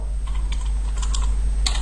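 Keys clatter on a computer keyboard as a username is entered, a short irregular run of close, crisp clicks over a steady low electrical hum, with no voices.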